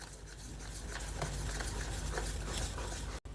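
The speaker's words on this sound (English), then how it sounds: "Now, mix everything again until it's smooth and chocolatey." Eggless brownie batter with curd is mixed in a bowl, giving a steady, continuous wet scraping and stirring that runs without a break at an even, moderate level.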